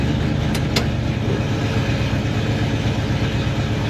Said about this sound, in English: we're gonna go ahead and open up the exhaust a little bit so you guys can hear that